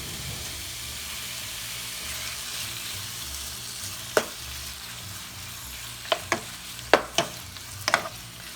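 Pork in red chile sauce stirred in a pot, a soft steady simmer with a handful of sharp spoon knocks and scrapes against the rim coming in the later part, close by and without speech.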